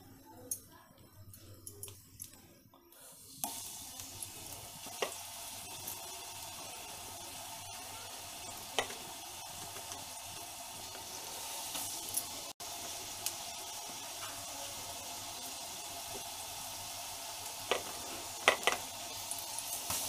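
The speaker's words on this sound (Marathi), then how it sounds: "तर अशा तऱ्हेने आपण ही सुरणाची कापं शॅलो फ्राय करून घेऊयात।" Coated elephant foot yam slices shallow frying in oil: a steady, close sizzle that starts after a quiet opening and runs continuously, dotted with occasional small pops and ticks.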